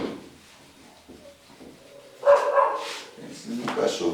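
A dog barks in a few sharp bursts in the background during a math lesson, moderately loud, with a person talking nearby.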